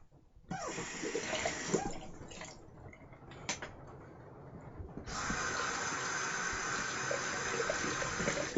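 Water gushes steadily from a tap, broad and hissing, with a few clanks and splashes before the flow settles into an even, continuous stream.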